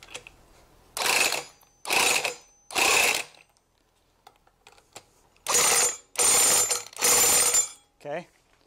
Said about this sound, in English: I'm gonna nail it with an impact.